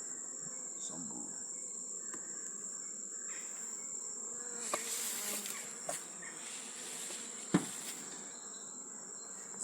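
Honey bees from a packed, jam-full hive buzz steadily during an open-hive inspection in Jamaica, a continuous close drone with a few brief knocks and handling sounds, no talk.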